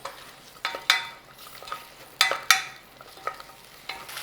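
Onion being stir-fried in a pan to loosen it, with scattered spatula scrapes and light clinks over a faint low sizzle, close and fairly quiet.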